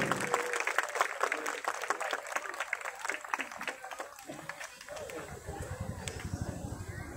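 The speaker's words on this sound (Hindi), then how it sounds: "एक बार जोरदार तालियां जरूर।" Audience clapping at a President's Guard horse riding and jumping stunt display in India, a loud dense patter of many hands with crowd noise and birds, while a commentator talks over it.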